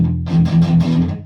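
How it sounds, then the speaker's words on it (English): A palm-muted power chord on a distorted rock electric guitar, chugged in a quick series of tight, dampened strums that sound short and chunky, loud and close. "Palm muting would sound like this."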